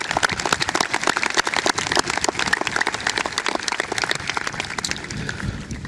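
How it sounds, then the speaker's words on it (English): Applause from a high school graduation audience honoring a group of retiring staff members, a dense and steady wash of many hands clapping that holds at full strength throughout. "Please join me in applauding that crew"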